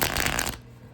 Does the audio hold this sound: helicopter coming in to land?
no